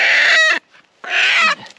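A hen squawks and clucks loudly at close range in two harsh, agitated bursts separated by a brief gap, with no voices over it.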